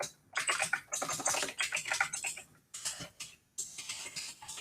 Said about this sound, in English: Sorry if my typing's really loud.